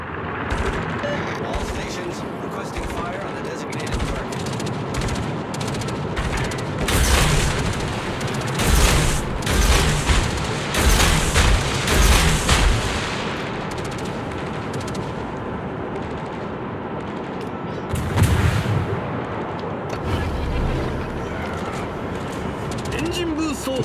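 Warship guns fire in World of Warships, heavy booming salvos and rapid bursts of gunfire that cluster in loud volleys with quieter stretches between, while engine and sea rumble continues and a voice talks at times over the battle.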